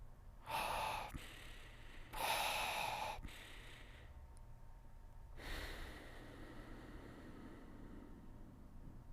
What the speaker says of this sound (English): you can do another mouth open and then mouth closed nostril inhale during the same breath